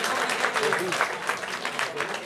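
Party crowd at a kiki ball party-games event clapping and cheering in a dense, steady wash, with voices mixed in throughout.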